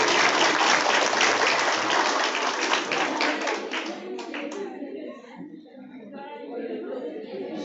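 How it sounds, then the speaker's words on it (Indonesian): Audience applause, a dense burst of clapping from a crowd at an indoor gathering that starts full and gradually thins and fades as scattered claps trail off, with a voice speaking over it. "Aplaus kepada Bapak Hadi Nuddin."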